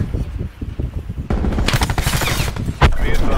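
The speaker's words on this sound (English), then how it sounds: "Nate's already shooting at me with a shotgun" Rapid shotgun blasts in a Halo-style sci-fi shooter video game crack out as loud broadband bursts over a busy game soundscape, with a player's voice talking partway through.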